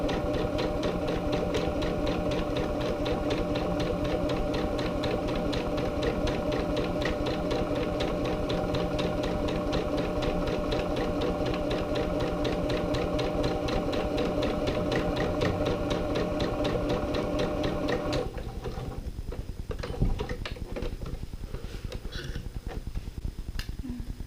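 Sewing machine stitching a fabric bunting seam, a steady, close, rapid mechanical chatter running for about eighteen seconds before stopping, followed by soft handling noises.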